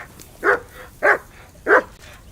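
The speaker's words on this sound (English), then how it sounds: "Whistle at that mutt of yours to stop barking!" A dog in the medieval video game Kingdom Come Deliverance II barks three times at an even pace, moderately close and clear against a quiet background.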